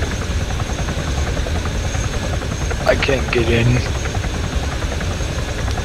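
A helicopter idles with a steady rotor and engine drone throughout in the video game Arma 3, while a player talks briefly over it midway.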